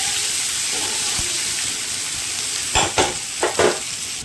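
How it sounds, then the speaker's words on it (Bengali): Chopped onion with chillies frying in a pan: a steady hissing sizzle, broken near the end by a few louder stirring scrapes, close and without voices. "পেঁয়াজটা হালকা ব্রাউন হয়ে ভাজা ভাজা হতে থাকে।"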